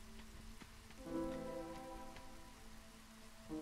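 Soft drizzle ambience from the Against the Storm city-building game, a steady wash of light rain patter with faint tonal pads underneath, no voices.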